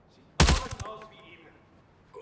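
A single sharp, loud gunshot cracks out and then decays into a ringing echo, with faint game sounds trailing afterward.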